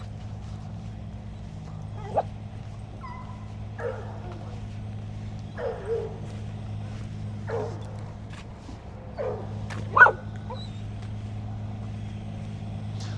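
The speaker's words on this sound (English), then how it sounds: "He's gonna bark a little bit because that's what he used to doing." A reactive dog lets out a run of short barks and yips spaced a second or two apart, the strongest near the end, over a low steady hum of traffic, with no talk over them.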